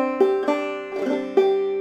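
A single closing measure of Cold Frosty Morn on clawhammer banjo: four crisp plucked notes with a pull-off, each ringing on into the next, heard alone and close.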